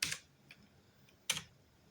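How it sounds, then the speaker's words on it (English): Short bursts of key clicks from one-handed typing on a computer keyboard while logging in, two clustered bursts about a second apart with a faint tap between, close and fairly quiet in an otherwise still room. "It's weird typing with one hand, holding the camera."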